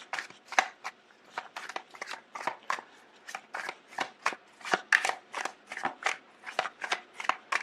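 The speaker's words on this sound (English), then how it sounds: "Let me see the other cards that are coming through." Tarot cards shuffled by hand in a steady run of crisp riffling bursts, close and fairly loud, repeating at a quick even rhythm with no voice over them.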